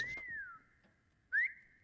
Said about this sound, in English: I wanna whistle so bad